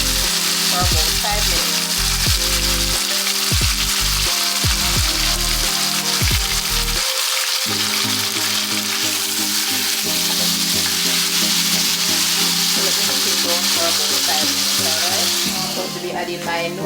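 Chicken browns in hot oil in a pot, sizzling and crackling loudly and steadily, with repeated thumps and stirring knocks that ease off toward the end.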